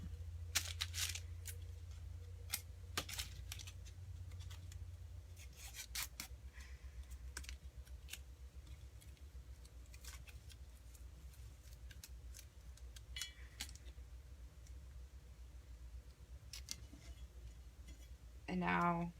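Scissors snip a vinyl decal for an LV zipper design tumbler, giving a series of short, sharp, close cuts with light rustling and scraping between them, under faint background hum.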